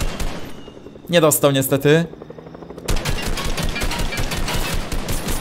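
Gunfire in the video game Fortnite, with rapid shots crackling densely through the second half after a brief burst of speech, continuing as a steady, fairly loud volley.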